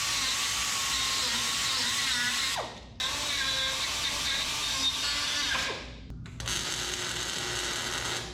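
A carbide burr on a die grinder grinds down a metal pedestal in a 1980 Chevrolet 4x4 truck, whining steadily and close with a high pitch, pausing twice as the tool spins down and restarts.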